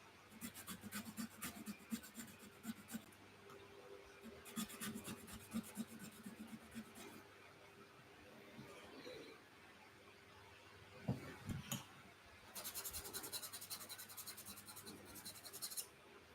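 A Viking sword's top guard being engraved with a tool worked like a chisel makes quiet, scratchy rasping strokes in bursts separated by brief pauses.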